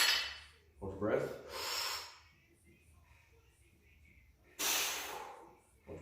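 Forceful breaths during a bench press rep: a sharp inhale, then a long hissing exhale, a pause, and another strong close breath near the end, with no words spoken.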